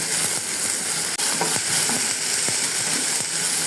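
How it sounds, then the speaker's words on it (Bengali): Steady, close sizzling of onion, garlic and ginger paste frying in a pan, with occasional scrapes and stirring clicks, no talking. "পরিমাণ মতো আদা বাটা দিয়ে আরও কিছুক্ষণ ভেজে নেব"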